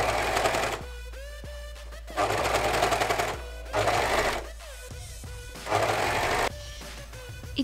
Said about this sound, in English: While you're sewing, you need to keep the elastic in tension